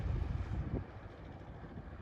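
Fishing boat moving fast across the open sea, heard as a low rumbling wash of water and wind buffeting the microphone, fairly quiet and continuous with no voices.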